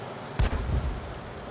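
A tank cannon fires in the World of Tanks video game: one sharp, loud blast followed by a short rumbling decay, with no talking.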